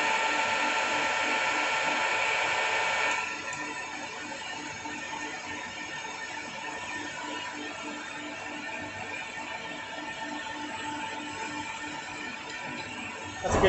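A lathe machining a flywheel for a small air engine runs with a steady motor whine and cutting hiss, louder at first and then settling to an even, continuous drone close by.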